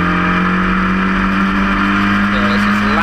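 Historic Formula Ford race cars from 2014 racing through Barn Corner at Cadwell Park, engines droning loudly and steadily with a rising tone near the end, under continuous commentary.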